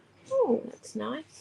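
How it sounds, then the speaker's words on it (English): A cat meows at a front door during an evening scrapbooking class, a short wavering call heard close by, followed by a second call, with a person talking around it. "I believe that's a cat at the front door."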